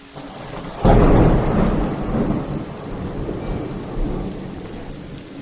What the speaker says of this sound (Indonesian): Cuma guntur kok.